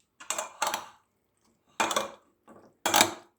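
A spoon clinks against a bowl while yogurt is stirred into a cacık salad with onion, vinegar and mayonnaise, four separate scraping clatters with short pauses between them.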